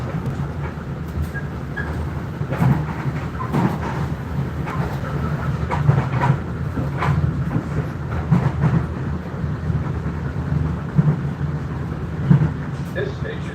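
Subway train at a station platform, a continuous low rumble with rail clatter and occasional sharp clanks, fairly close and steady throughout.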